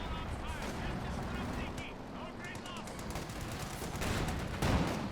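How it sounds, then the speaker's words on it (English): Artillery shells land in the World War II strategy game Company of Heroes 2, with booming impacts and crackling gunfire blended in a constant loud battle din, and a heavier blast near the end. "Good artillery hits across the board."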